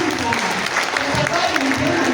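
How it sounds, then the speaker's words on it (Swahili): A church congregation claps through a testimony service, the dense applause mixed with voices and cheering the whole time. "Sumbe Yesu makofi mazuri"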